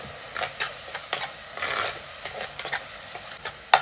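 Small shallots frying and being stirred in a pan, a steady soft sizzle broken by repeated scraping strokes of a spatula, close and moderately loud with no voices.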